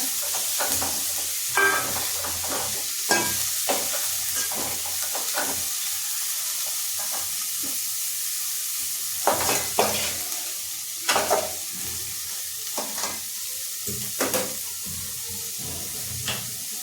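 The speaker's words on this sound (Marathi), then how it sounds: "आता याच्यामध्ये आपण धुतलेले मूग आणि मटकी टाकायचे. छानपैकी मिक्स करून घ्यायचं." Washed moong and matki sprouts frying in a pan, a hissing sizzle broken by recurring scraping bursts as a spoon stirs and mixes them, loud and close.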